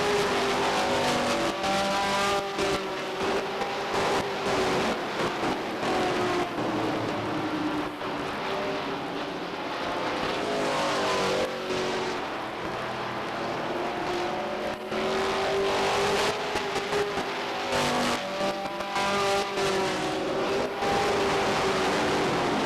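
Race cars roar around Beech Ridge Motor Speedway during weekly racing, engines rising and falling in repeated passes as the pack sweeps by, loud and continuous with no voices.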